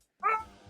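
A puppy gives a single short, high yip-like bark, fairly close, followed by a faint whimpering tail and low room noise.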